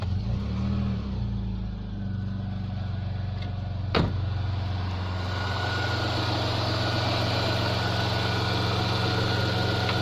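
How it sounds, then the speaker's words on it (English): Rover 45 KV6 car's V6 engine idling after a spark plug change, a steady low drone held for the whole stretch with one brief sharp click partway through and no talking. "let's give her a test run before we put the engine shield"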